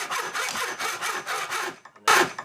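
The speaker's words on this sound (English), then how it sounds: "And then simply cut it to length." A hand saw cuts clamped wooden pieces to length for a seed sieve frame in quick, rhythmic back-and-forth rasping strokes, close and clear. A brief louder scrape comes at the end.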